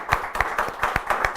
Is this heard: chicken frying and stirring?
no